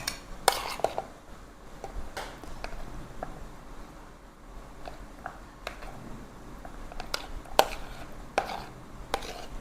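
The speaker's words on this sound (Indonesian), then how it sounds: "ini nanasnya langsung kita chopper aja ya" Pineapple pieces being chopped in an electric food chopper, used in place of a blender, with repeated sharp clattering bursts over a steady low whir, fairly quiet throughout.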